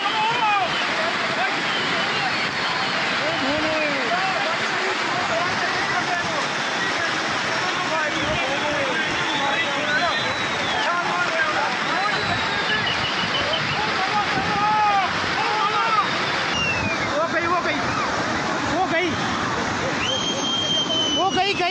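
Floodwater rushing after the Amarnath cloudburst, a loud, constant roar of water with wind noise on the microphone, heard under agitated shouting and talking throughout.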